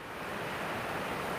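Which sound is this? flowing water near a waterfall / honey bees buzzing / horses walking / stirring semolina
flowing water near a waterfall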